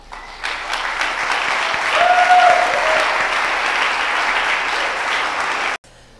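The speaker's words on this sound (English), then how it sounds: "I'd like you all to give them a big round of applause" Audience applauding after a permaculture conference talk, a dense, steady wash of clapping that swells, holds for several seconds, then cuts off abruptly.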